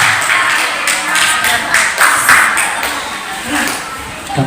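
A group of people clapping at a sub-district Quran school quiz competition, a steady patter of many hands with voices mixed in, fairly close and loud for several seconds.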